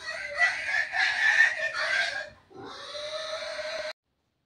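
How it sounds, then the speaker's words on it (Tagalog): Loud, harsh pig squealing rises and falls in a continuous burst, breaks off briefly, then returns as one steadier, piercing squeal before stopping abruptly. "ang ingay ng baboy"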